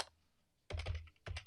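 Keys clatter on a computer keyboard in two quick bursts of typing separated by a short pause, close and fairly quiet, with no talk.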